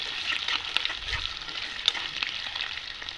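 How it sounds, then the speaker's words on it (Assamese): Potato pieces and eggs frying in oil in a pan for a home lunch, a steady close sizzle with scraping, clicking stirring strokes throughout and no talking. "ভজাৰ পিছত আলু আৰু ডিম সকলোবিলাক দি দিলোঁ। এতিয়া এনেদৰে অলপমান ভাজি ল'ম।"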